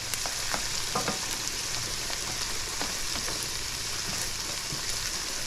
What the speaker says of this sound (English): I'm going to do this on medium heat. You want these onions to get nice and flavorful.